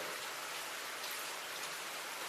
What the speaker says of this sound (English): bro, it's rain